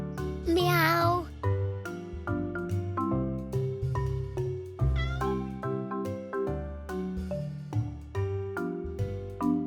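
Cartoon cats meow repeatedly in varied pitches, drawn-out tonal mews, with a voice briefly mixed in.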